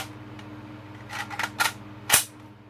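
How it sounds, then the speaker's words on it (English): Magazine rocked into the magazine well of a Ruger Mini-14 rifle, a few short metallic clicks and clacks close by, ending in one sharper snap as it seats, over a steady low hum. "I'll show you how to put the mag in and get it out. I'm not going to charge it with a mag in it, but it just rocks in."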